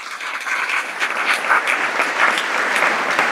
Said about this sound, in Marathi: एकदा जोरात टाळ्या व्हायला पाहिजे।